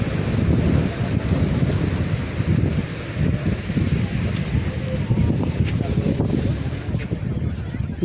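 Sea waves at Digha beach surge and churn around a boat in a continuous, loud low rumble with strong wind buffeting throughout.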